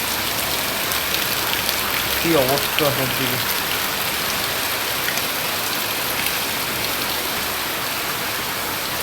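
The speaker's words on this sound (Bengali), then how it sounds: "কন্টিনিউ বৃষ্টি হইতেছে," Continuous heavy rain pours down outside, a dense, even hiss of drops that never lets up, with a voice speaking briefly in the middle.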